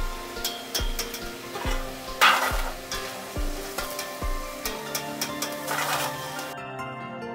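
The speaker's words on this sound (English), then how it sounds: "Fry the potatoes in the frying oil before the meatballs." Potatoes fry in hot oil for a Turkish meatball recipe, a continuous sizzle punctuated by repeated stirring and tapping knocks, close up and with no voices.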